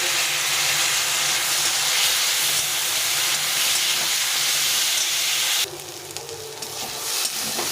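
Bitter gourd, potato and fish head sizzle hard in a hot frying pan, a loud, dense, continuous hiss close by that abruptly drops to a quieter crackle near the end.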